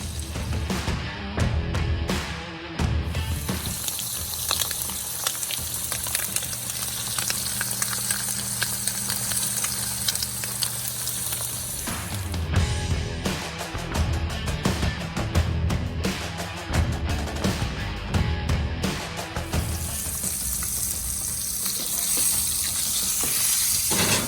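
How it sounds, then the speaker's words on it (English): Dry-aged steaks searing in butter in a hot pan, a loud continuous crackling sizzle with bursts of spattering and occasional stirring, steady and close throughout. "We're gonna start adding in our steaks."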